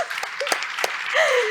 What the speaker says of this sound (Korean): 박수 한번 치면서 시작할까요?